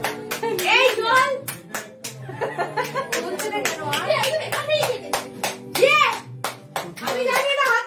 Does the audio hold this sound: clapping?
yes